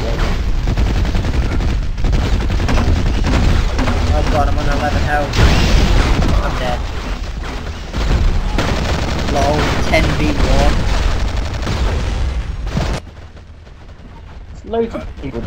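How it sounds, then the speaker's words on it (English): Gunfire and explosions in the Battlefield Heroes video game, a loud continuous barrage of shots and booms with voices talking over it, cutting off abruptly near the end. "I'm being shot from behind."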